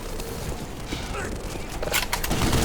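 Turret gunfire in the video game Black Mesa, rapid shots crackling in bursts with game effects under constant excited talking, busier and louder toward the end.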